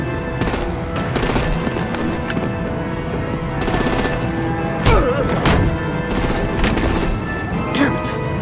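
Rapid machine-gun fire and heavy booms in a combat scene from Batman: The Telltale Series, dense repeated bursts with louder thumping blasts, mixed with voices shouting.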